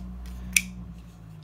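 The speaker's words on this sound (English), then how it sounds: "There's a pair of snip scissors." One short, crisp snip from a small pair of thread scissors stands out sharply against a quiet background hum.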